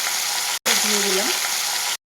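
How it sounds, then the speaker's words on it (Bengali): Sliced onion frying in oil with nigella seeds and dried and green chillies, a continuous close sizzle broken by brief cuts, with a short voice faintly underneath. "এগুলো খুব ভালো করে ভেজে নিয়ে তার মধ্যে দেবো পেঁয়াজটা"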